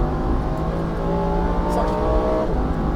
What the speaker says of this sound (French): Allez, remets-moi du gaz, gaz à fond.